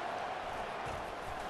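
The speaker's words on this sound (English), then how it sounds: "It is getting loud as this crowd tries to help its defense" Stadium crowd noise in EA Sports College Football 25 during a Louisville vs Georgia game, a steady broad roar that swells as the home crowd rallies behind its defense.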